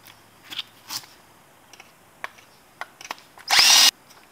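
A power drill spins up to trim .223 brass cases, preceded by scattered light clicks and handling taps, then one loud, close burst of whirring lasting about a third of a second near the end.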